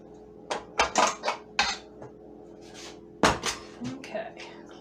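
A metal mixer beater is scraped and knocked against a bowl while carrot cake batter is finished, giving a string of sharp clinks and clatters, close and fairly loud, then a pause before a few more taps.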